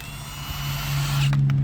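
A power tool, likely an impact gun, whirs steadily and close while removing a wheel from a 72-plate Ford Transit van that has grinding brakes, ending in a few short bursts.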